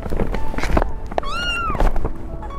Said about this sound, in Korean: 지금 고양이 소리 나잖아요